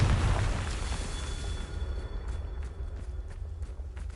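A Confringo fire spell bursts in Hogwarts Legacy, opening with a loud rumbling explosion that decays into a crackling, fiery roar over a few seconds, with no voices.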